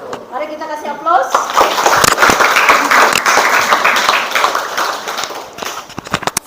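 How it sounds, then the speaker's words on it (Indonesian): Audience at a school graphic design presentation bursts into loud, sustained clapping and applause that fills the room for several seconds after a brief spoken line, then slowly tapers off. "Mari kita kasih aplaus"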